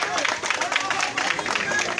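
A crowd at Duala market claps for itself, a dense patter of many hands close by, steady and lively over the short span, with voices mixed in.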